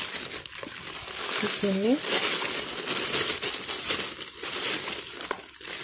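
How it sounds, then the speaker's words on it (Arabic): A plastic bag of sea salt, used for seasoning fesikh, crinkles and rustles in short bursts beneath steady talking in a kitchen. "عندي هنا كيس من الملح، اللي هو الملح ده ملح بحري."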